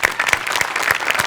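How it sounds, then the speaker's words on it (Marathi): A studio audience gives a burst of dense, loud applause welcoming a guest career counsellor onto a Marathi discussion-panel comedy show, with many overlapping claps close by and no talk over it. "जोरदार टाळी आपण त्यांचं स्वागत करूया."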